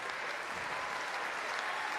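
Crowd applause at a men's all-around gymnastics final at the 2025 European Championships, a dense, even wash of clapping that fills the whole stretch without a break.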